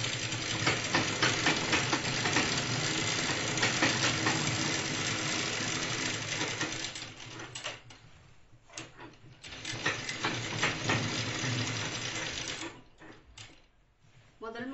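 A sewing machine stitches the edge of a chudidar top, running in a steady whirring hum, then stopping and starting in short bursts toward the end, with a voice talking over it.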